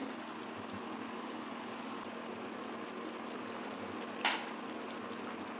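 A covered pan of rui fish curry with fresh vegetables simmers on a medium gas flame, giving a low, steady bubbling hiss that runs unchanged, with one brief sharp clink near the end.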